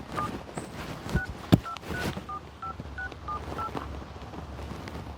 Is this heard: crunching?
no